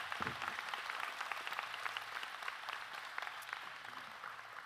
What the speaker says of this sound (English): Let's give one more round of applause to our graduates.